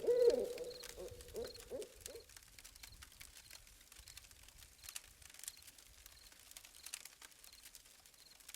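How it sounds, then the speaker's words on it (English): An owl hoots at night in the Ojito Wilderness desert, a few close, low hoots in the first two seconds, followed by quiet with faint rustling and high insect-like ticks. "The desert night is a symphony of crickets, coyotes, and the occasional hoot of an owl."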